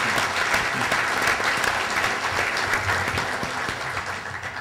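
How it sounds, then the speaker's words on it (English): Business breakfast audience gives a round of applause for event sponsors, a sustained, even clatter of many hands clapping in a room, tapering slightly toward the end. "If we could please have a round of applause for all of our sponsors."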